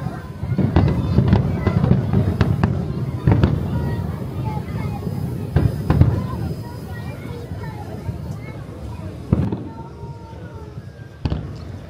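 Fireworks for Singapore National Day at Gardens by the Bay, loud booms and crackling bursts going off in irregular clusters over a constant murmur of crowd chatter.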